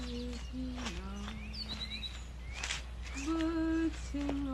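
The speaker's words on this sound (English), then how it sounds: "Birds sing on unconcerned." Birds sing outdoors with scattered whistled chirps and short trilling phrases over a steady low hum, mostly moderate and somewhat distant, with a few brighter calls rising in the second half.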